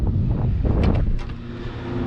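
Strong wind buffets the microphone outdoors on a November crappie fishing trip, a continuous heavy low rumble with gusting surges and no voices.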